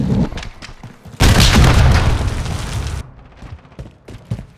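Gunfire and explosions in the video game Call of Duty Modern Warfare 3 multiplayer: scattered shots, then a loud sustained blast-like roar lasting about two seconds, followed by more sporadic gunfire and thuds.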